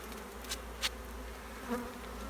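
Honeybees buzz around a log hive as honey is cut from it, a faint steady hum with a few bees passing close and briefly louder.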